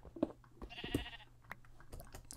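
A faint sheep bleats briefly amid quiet background sounds on an island, a short wavering call heard once from a distance.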